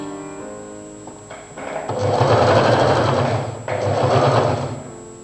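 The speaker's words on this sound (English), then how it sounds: "Then make a stitch line of your regular stitch." A sewing machine stitches a seam on a front-open Chinese-collar jacket, a loud close whirring run in two bursts separated by a brief pause, with quieter handling sounds before it starts.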